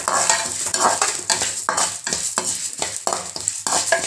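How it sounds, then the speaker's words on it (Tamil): Horse gram roasts in sesame oil over a low gas flame, sizzling steadily while a spoon scrapes and stirs the pan in a quick, repeated rhythm, close and clear with no talking. "கொல்லு வந்து நல்லா ப்ரௌனாக வர வரைக்கும் நல்லா வறுத்துக்குங்க"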